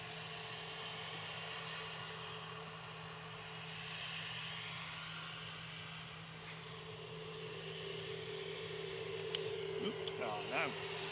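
An EasyJet airliner departing Manchester Airport, a broad distant engine roar with a steady low hum that swells slightly near the end.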